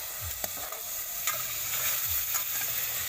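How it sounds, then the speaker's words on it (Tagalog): Food sizzles as it is stirred in a pot until browning, continuous frying hiss with repeated scraping strokes of a utensil against the pot, close and without talk. "para hindi siya dumikit sa sa kaldero. Oh, ukayin hanggang sa mag-brown."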